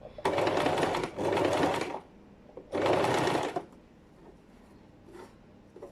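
A sewing machine stitching binding runs in three loud, steady bursts separated by short pauses, close up, followed by quieter handling sounds.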